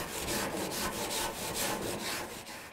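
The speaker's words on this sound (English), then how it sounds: "now we're gonna scrub those grates as much as possible. So get a stiff wire brush." A stiff wire brush scrubs barbecue grill grates in steady back-and-forth strokes, a close, loud rasping scrape that repeats rhythmically without pause.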